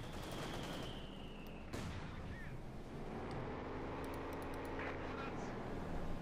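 MG-42 machine gun bursts crackle in Company of Heroes 2 as gunners fire on engineers, quieter rattling under steady battle noise and a caster talking over it.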